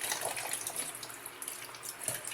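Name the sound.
pouring warm water for bread dough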